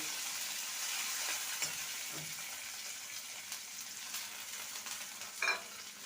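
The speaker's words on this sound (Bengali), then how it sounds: "টমেটোটাকে দিয়ে দিলাম পেঁয়াজের সঙ্গে টমেটোটাকে ভেজে নেব" Tomato and onion fry in a pan with a steady, moderate sizzle, with occasional stirring clinks and scrapes scattered over the crackle.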